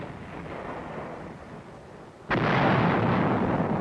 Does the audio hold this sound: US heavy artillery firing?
yes